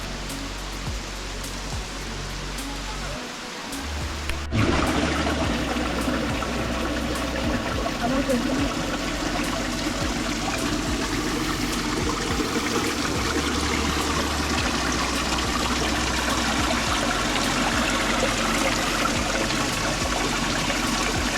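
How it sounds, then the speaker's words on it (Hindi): Water from the Akashi Ganga waterfall rushes in a constant broadband roar, close and loud, swelling after a brief quieter start. "एकदम ऊपर से पानी आता है।"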